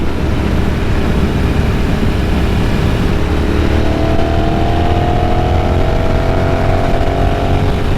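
A Ducati Sport Classic 1000S motorcycle engine accelerates in a steady, loud, continuous roar, with a rising tone partway through and wind noise throughout, no talking.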